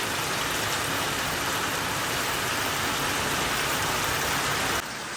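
Torrential monsoon downpour in a Konkan village roars as a thick, even wash of falling water, loud and continuous before cutting off abruptly near the end.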